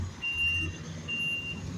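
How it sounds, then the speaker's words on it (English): A garbage truck's reversing alarm sounds two steady electronic beeps, each about half a second long, over a low diesel engine rumble nearby, with no talking. "The garbage truck."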